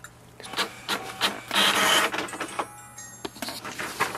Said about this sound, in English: So here is the information button which we have to press once and it will print the page.